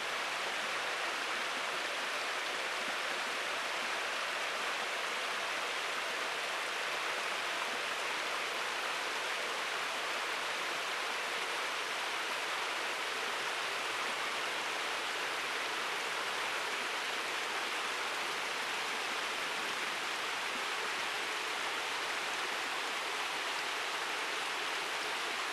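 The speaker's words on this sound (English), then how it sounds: "This feeds a constant flow of water through the trap and down a ramp of bristles" Water pouring steadily through an eel trap and down a ramp of bristles into a drain at Slapton Ley, a constant broad hissing rush with no pauses, close and fairly loud, no voices.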